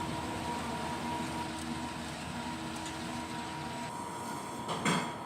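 An inkjet printer runs a nozzle test after head cleaning, a steady close mechanical hum and whir with faint sliding clicks and a short clunk near the end, no voices.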